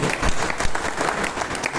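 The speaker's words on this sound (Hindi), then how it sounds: "एक बार कोशिश से उसके लिए जोरदार ताली बजाए" Loud, dense applause from an audience at a Hindi-language company business meeting, steady crowd clapping throughout without pauses.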